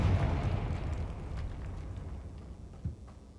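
A Confringo blasting spell explodes in the Hogwarts Legacy video game inside a barricaded tomb archway: a loud low rumbling burst that slowly decays, with a smaller thump near the end.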